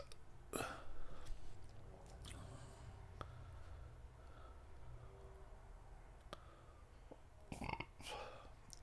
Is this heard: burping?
yes